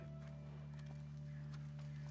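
Horse hooves clip-clop steadily in The Last of Us Part I, with a continuous low game hum and ambient tones running underneath.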